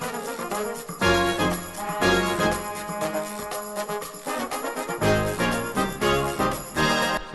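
Brass and percussion play in short, punchy bursts, washed in a concert hall reverb preset from Chromaverb in Logic, with no voices.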